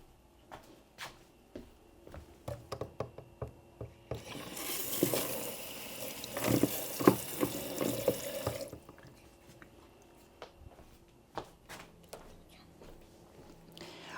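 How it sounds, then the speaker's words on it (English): Tap water runs into a sink for about four seconds, a steady rushing wash, while water is fetched to dampen a chunk of potting medium for repotting a seven-year-old orchid; scattered clicks and handling knocks surround it. "So let me get some water."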